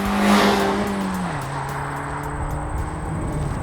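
A 2023 Mazda MX-5 RF sports car drives past close up, its engine note rising then dropping as it shifts, a steady smooth drone with no talk.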